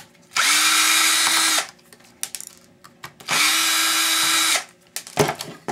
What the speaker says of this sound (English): I just want to unscrew the hard drive.